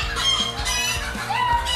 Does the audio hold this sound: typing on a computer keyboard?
no